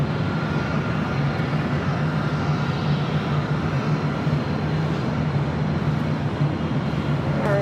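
Steady, loud roar of aircraft at Los Angeles LAX airport, a broad continuous engine rumble with a faint tonal hum throughout, and no voices.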